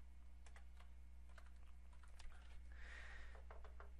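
Computer keyboard typing while a slide title is entered in PowerPoint: soft, quick, irregular key taps, faint against a steady low electrical hum.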